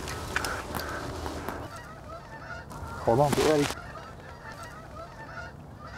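Geese honk in a brief, close burst during a goose hunt in Jersey, set against an otherwise quiet outdoor background with a hunter speaking softly.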